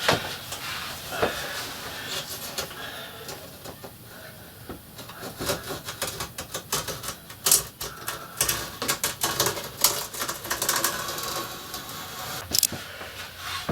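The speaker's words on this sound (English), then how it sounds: "So I'm going to cut a little strip off about 1/2 inch wide all the way round and put them in as two separate pieces." A strip about half an inch wide is cut from a sheet of material for a model railway layout rebuild, giving a run of close, crisp scraping and snipping strokes in irregular bursts, with a few sharper clicks.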